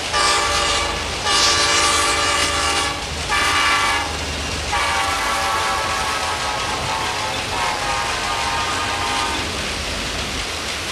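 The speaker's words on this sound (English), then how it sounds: "They blow their horn to warn you that they're coming." A train's horn blasts loudly in several long, sustained tones over the rumble and clatter of the moving train, close and dominant throughout.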